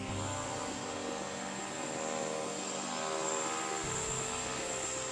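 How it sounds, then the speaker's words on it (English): A steady, loud aircraft turbine engine starting up, its whine with a high turbine tone holding constant throughout, no voices, droning without letup. "I spin the turbine and the engine starts"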